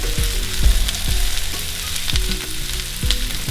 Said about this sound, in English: I'm gonna let the mushroom cook down with the onions